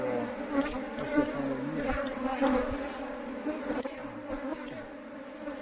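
Honey bees hum and buzz around a hive in French Guiana, a dense close drone with individual bees passing near, no talk over it.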